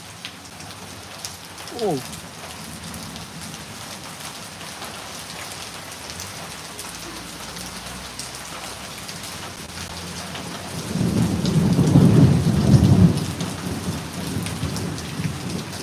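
Steady rain falls in a constant hiss while a deep roll of thunder swells midway and fades, with a short voiced exclamation near the start.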